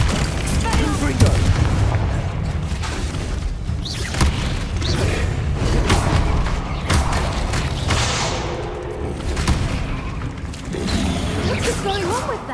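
Repeated fiery Confringo spell blasts in the Hogwarts Legacy video game, loud booming impacts scattered throughout amid dense combat noise, with spoken voices in places.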